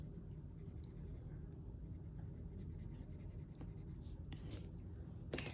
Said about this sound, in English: let's just go ahead and color in one of our watermelons